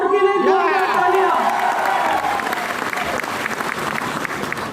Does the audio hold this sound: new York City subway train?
no